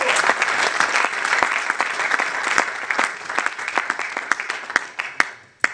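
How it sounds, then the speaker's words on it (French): A church congregation claps for the Lord during a Sunday service, with sustained, full applause that thins toward the end into a few sharp, separate claps. "Can we clap for the Lord?"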